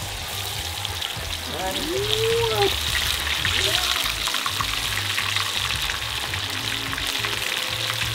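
A red snapper frying in hot oil over a wood fire beside a river in Jamaica gives a dense, continuous sizzle and crackle, close and loud, with people talking over it.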